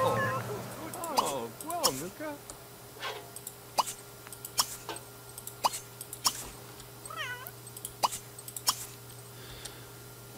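A cat in The Sims 3 meows several times, with short wavering mews near the start and midway, among sharp clicks and faint game ambience, while someone talks at times.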